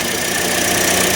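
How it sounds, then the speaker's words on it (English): A Toyota Corolla engine idles close by after wiring repairs, giving a steady, even hum with a faint mechanical clatter that holds without a break. No one speaks over it. "You can back her down, maybe, Dill. We'll just don't back into the tractor."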